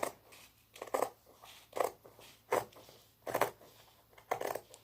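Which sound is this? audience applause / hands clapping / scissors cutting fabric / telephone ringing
scissors cutting fabric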